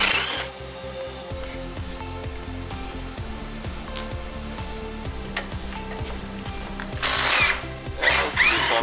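Ratchet wrench turning radiator support bolts on a VW Jetta MK5, steady rapid clicking bursts repeated over several seconds, close and moderately loud, with no speech.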